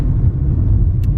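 A rental car rumbles steadily while driving, a loud, constant low engine and road drone with no one talking.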